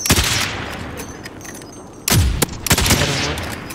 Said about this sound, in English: Damn, everyone shot at him.